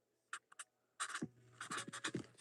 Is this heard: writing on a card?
yes